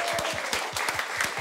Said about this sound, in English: a big round of applause for Labour MP David Cunliffe